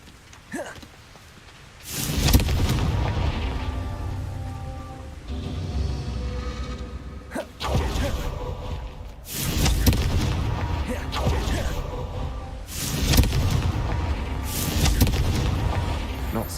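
Explosive fire spells blast in the wizarding video game Hogwarts Legacy: four heavy, booming detonations spaced several seconds apart, each followed by a rumbling tail, loud and close.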